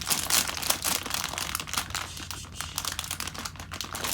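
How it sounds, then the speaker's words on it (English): Plastic bag of a LEGO Super Mario character pack being opened, with a steady stream of close, busy crinkling and rustling that runs throughout without pause. "Let's go ahead and open up our next character pack here."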